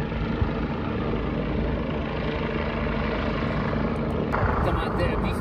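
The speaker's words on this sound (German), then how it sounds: "Innerhalb von Minuten war auch der Heli da." Rescue helicopter arriving in the Mont Blanc mountains, a loud, steady rotor-and-engine roar that holds close and constant, with people talking underneath.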